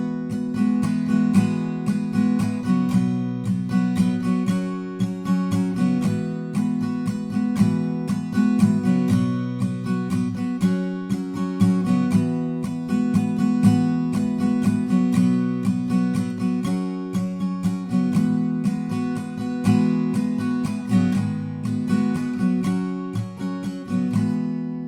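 An acoustic guitar strums chords in a steady, continuous rhythm throughout, full and close, with no voices.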